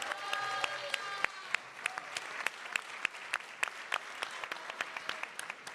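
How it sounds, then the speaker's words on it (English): Audience applause for awardees at an awards ceremony, a steady wash of many hands clapping with sharp individual claps standing out, moderately loud and sustained with no talk over it. "Let's give one more round of applause to all three of our awardees"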